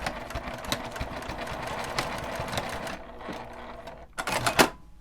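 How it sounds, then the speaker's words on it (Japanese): A sewing machine runs steadily, stitching along the edge of a small laminated-fabric mini wallet, its rapid needle clatter continuing for a few seconds before pausing, then a short final burst. "表から端ミシンをかけます。"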